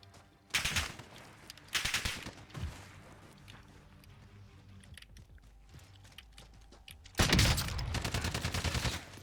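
Gunfire in the video game Call of Duty Warzone comes as several short automatic bursts, the last the longest and loudest, with quieter mechanical clicks between them.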